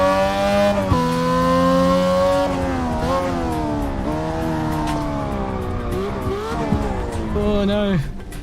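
Race car engine and tyres in the Assetto Corsa driving game, a loud sustained engine whine climbing and dropping with gear shifts and engine braking, tyres scrubbing, while someone talks over it.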